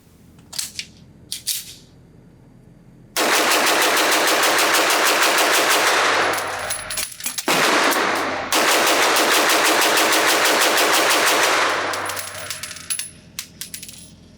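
A Staccato XL limited-edition 2011 pistol is fired rapidly through two magazines, two long dense strings of rapid shots separated by a short reload pause, loud and close, with rattling and clicks before and after.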